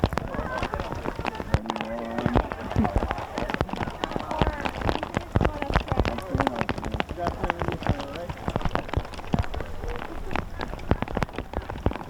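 Hail falls at an outdoor high school softball game, a dense patter of sharp ticks and clicks on surfaces, heard under scattered voices talking nearby.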